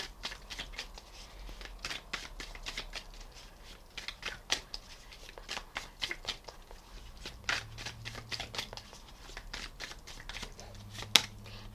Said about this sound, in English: Think of yourself while I shuffle.